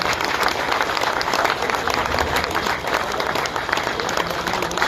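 A crowd claps at a lamp-lighting ceremony opening a divisional horticulture exhibition in Bhagalpur, the applause loud, dense and steady throughout.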